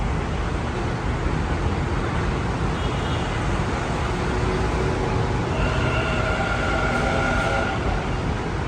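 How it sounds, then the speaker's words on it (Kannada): A metro train rumbles steadily at close range, a continuous broadband roar with a faint whine rising toward the end and no talk. "ನಮ್ಮ ಟ್ರೈನ್ ಬಂತು ಎಲ್ಲ ಖಾಲಿ ಇದೆ ಗುರು."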